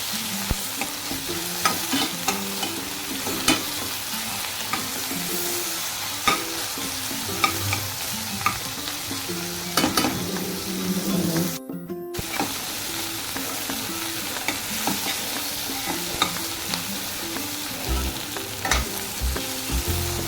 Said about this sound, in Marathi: हे चांगलं परतून घ्यायचं आपल्याला कांदा टोमॅटो